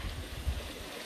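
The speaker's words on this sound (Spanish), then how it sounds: "Miren una quebrada. Ya viene desde Viene desde la montaña." A mountain stream (quebrada) running down near Joyabaj, Quiché, gives a steady low rushing and gurgling of water, close and continuous, with no voices.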